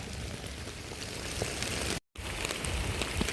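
Steady broadband hiss of heavy rain pouring down outdoors during a storm, dense and continuous with a brief gap in the middle.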